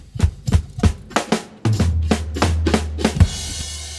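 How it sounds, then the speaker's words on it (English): Recreated opening drum break from the Rocky theme, played as a string of punchy drum hits in an uneven rhythm, then a sustained low bass tone underneath the final hits, with no voices. "The very first drum break, I imitated like, you know, verbatim."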